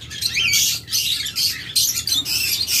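Large pet birds squawk and screech in loud, overlapping bursts at a bird seller's shop, the harsh calls coming in quick repeated clusters with brief gaps between them.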